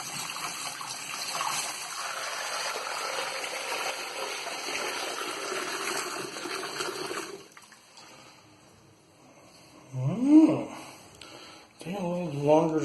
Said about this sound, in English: Let's make sure this is draining well.